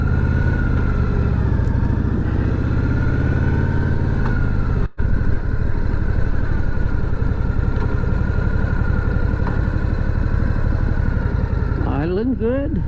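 A Harley-Davidson motorcycle engine idles steadily at close range with a constant low throbbing rumble, one brief dropout midway, and a rising squeal at the very end.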